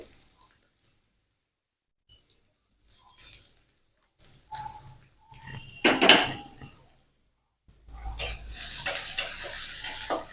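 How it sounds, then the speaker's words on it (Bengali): Chopped onion softens in a wok, heard as quiet stretches broken by bursts of spatula scraping and clatter against the pan, with a brief louder sizzle near the end. "পেঁয়াজ এরকম করে ভেজে নিয়েছি একটু নরম হয়েছে"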